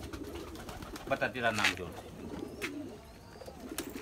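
Nagpuri Gire Baaz and Sabze pigeons cooing at a pigeon keeper's home, soft repeated throaty coos close by, with someone talking over them.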